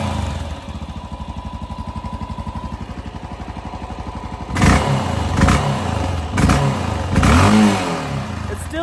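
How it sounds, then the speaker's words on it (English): An engine in a vehicle being prepared for an overland challenge idles with a steady pulse, then takes several quick throttle blips that rev up sharply and fall back, carrying a slight misfire stumble. "that little bit of a miss that it has when you give it some throttle"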